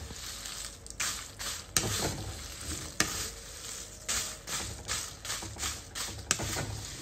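Whole red chillies dry-roast in a pan, giving a dry, scratchy rustle as they are stirred, with rhythmic scraping strokes and a few sharper clicks over a quiet background hiss.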